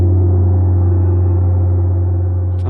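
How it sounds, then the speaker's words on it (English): A gong struck to mark the end of a conference panel session, ringing alone with a long, loud, steady low hum that sustains without decaying across the whole stretch. "we've got a gong for you to symbol the end of the session"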